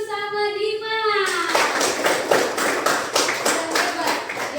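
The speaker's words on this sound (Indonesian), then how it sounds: "Beri tepuk tangan dulu sama Dimas" Children in a classroom in North Sumatra clap for a classmate, with a burst of rapid, uneven hand claps after a short voice, steady and fairly close for several seconds.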